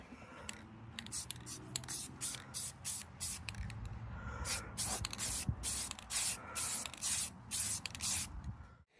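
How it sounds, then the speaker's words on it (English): Spray paint going onto a restored Toyota Tercel inclinometer cover, a quick series of short hissing bursts with brief pauses between them, close and fairly loud. "we'll run out and give this thing a coat of paint"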